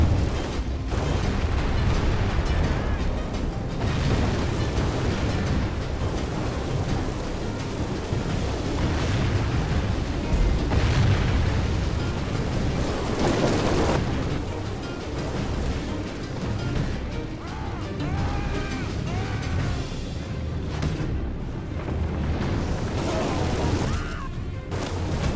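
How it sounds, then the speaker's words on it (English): Trebuchets in the medieval strategy game Medieval II Total War hurl long shots during a large river-crossing battle, heard as deep rumbling booms and crashes within a dense, continuous roar of battle noise. "The notoriously inaccurate trebuchets are firing long shots"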